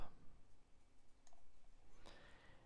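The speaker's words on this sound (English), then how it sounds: "by just clicking and dragging so I can trim them up" A few sharp computer mouse clicks stand out against quiet room noise while a user edits in Mixcraft, with one isolated click early on and a louder pair near the end.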